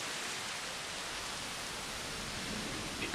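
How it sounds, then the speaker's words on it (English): Steady rainfall in the dinosaur park game Jurassic World Evolution, an even, unbroken hiss of rain that holds at a constant level throughout, with no voices. "It's raining."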